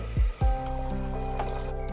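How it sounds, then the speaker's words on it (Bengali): Water poured into a pressure cooker holding fried, rinsed lentils: two soft thuds, then a steady, close gurgling pour that runs to the end. "দিয়ে দিচ্ছি পরিমাণ মতো জল"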